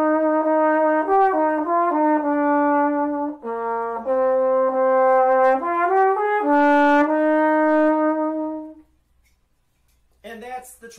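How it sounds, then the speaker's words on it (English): A solo alto trombone melody played in a bright, fairly high register, with smooth slides between sustained notes, then a brief faint rustle after it stops. "The last instrument that I typically would be playing in orchestra is an alto trombone."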